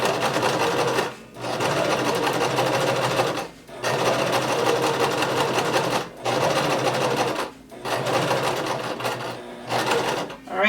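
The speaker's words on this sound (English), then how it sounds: "keep sewing until you get to the last dot, but do not back stitch" A sewing machine stitches a front slit shirt in a series of loud, close, whirring runs, about five bursts of steady motor drone broken by short pauses.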